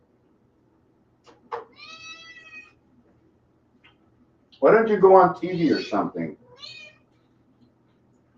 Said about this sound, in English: Does anybody hear this cat?